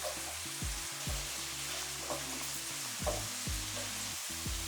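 Turmeric and salt sautéing in a pan for a bitter gourd and field bean tamarind curry, a steady close sizzle broken by several scraping stirs of the spatula.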